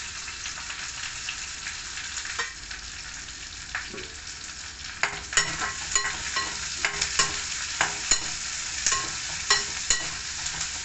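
Ingredients for palak paneer fry in a pan under a constant hiss, while a spatula stirs and scrapes in a regular rhythm of sharp clicks that grows busier toward the end.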